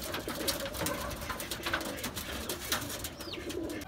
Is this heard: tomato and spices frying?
no